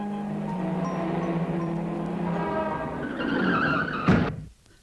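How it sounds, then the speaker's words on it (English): A car brakes hard with a sustained, rising tire squeal for several seconds, ending in a sharp thump of impact with an animal, then abrupt quiet. "The car has knocked him down."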